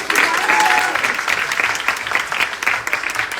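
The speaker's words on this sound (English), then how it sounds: "Can we have a huge round of applause?" Auditorium audience at a Mrs. India Worldwide audition event breaks into loud, sustained clapping that carries across the whole moment, with some voices mixed in.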